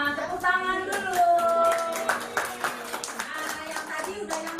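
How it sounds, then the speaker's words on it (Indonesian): Children clap their hands together in a classroom, a lively scatter of claps mixed with tonal voices and chatter, fairly close and uneven in rhythm. "Ya, tepuk tangan dulu."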